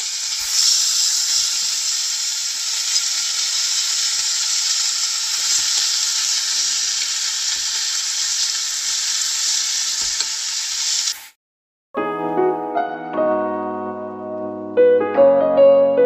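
Chunks of basa fish sear in a pot with no oil, a loud steady sizzling hiss for about eleven seconds, then it cuts off and gentle music follows.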